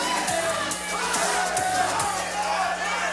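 A crowd at a USFFC mixed martial arts fight chants in a steady rhythmic pulse, filling the arena with loud, continuous noise beneath a commentator talking.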